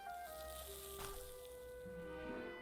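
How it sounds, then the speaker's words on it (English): Bacon sizzling in the video game Psychonauts 2, a steady crackling hiss alongside tonal game music, with no talk over it. "Why is it still sizzling? Because it's bacon."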